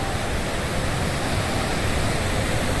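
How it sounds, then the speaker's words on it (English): Water cascades steadily at Ingleton Waterfalls along a hiking trail, making a loud, unbroken rushing roar throughout with no voices. "This is the Ingleton Waterfalls. Now cascading down"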